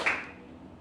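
An audience in a university teacher-training classroom claps hands together, a sharp close clap burst that rings briefly and fades into room tone.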